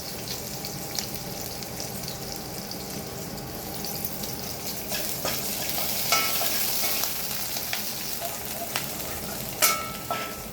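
Curry leaves dropped into hot oil already used for frying chicken 65 crackle and sizzle steadily, with a broad hiss throughout and a few sharper pops and spits near the end, close and fairly loud.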